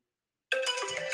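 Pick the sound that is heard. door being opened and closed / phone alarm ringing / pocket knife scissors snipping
phone alarm ringing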